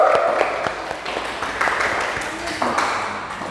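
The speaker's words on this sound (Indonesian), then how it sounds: "Berikan tepuk tangan dulu untuk kelompok 2" A classroom group claps for the second group as its members come to the front, with short bursts of applause and a few scattered claps, while people murmur nearby.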